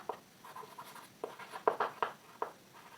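Pen scratches across paper while working out a maths solution on areas of circle segments, a series of close, soft irregular strokes and taps, quiet and alone.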